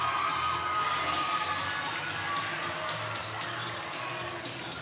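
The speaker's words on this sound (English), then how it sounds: "Well, the Midland crowd is enjoying this." Crowd at a Midland High boys basketball game against H. H. Dow High, cheering steadily throughout with shouts and sneaker noise in a gym, loud and sustained without a clear break.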